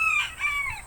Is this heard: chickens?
yes